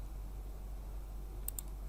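Two quick, faint keyboard key clicks close together over a steady low hum, like a Ctrl+C copy shortcut pressed on a computer.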